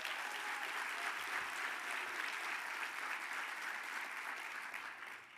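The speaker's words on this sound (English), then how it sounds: "Can we get a round of applause for David Holt" A luncheon crowd at an annual meeting's plenary gives a round of applause for David Holt: dense, even clapping from many hands that holds steady for several seconds, then starts to thin at the end.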